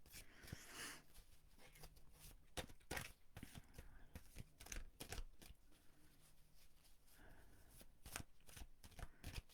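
A deck of oracle cards is shuffled close by in quick, soft riffling bursts, each followed by a brief pause, before a card is drawn.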